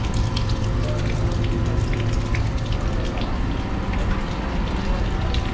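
Water drains from a chiller's condenser water strainer in an industrial plant room, a steady, close rushing and splashing that runs unbroken throughout.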